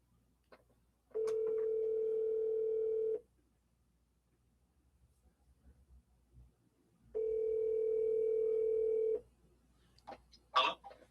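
A phone line ringback tone rings twice while a call is placed to a real estate agent, each steady electronic ring lasting about two seconds with a long silent gap between, loud and clear with no talk over it.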